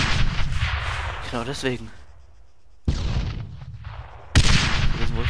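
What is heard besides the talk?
gunfire in the video game Arma 3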